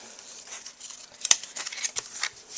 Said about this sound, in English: I'm just going to cut off the back here, because that's not needed